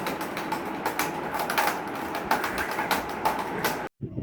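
Steady rumble and rhythmic clatter of a moving train, heard close and continuous, cutting off abruptly near the end.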